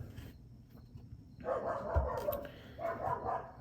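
A dog barks a few times in the background near a greenhouse, the barks muffled and moderately loud over outdoor ambience.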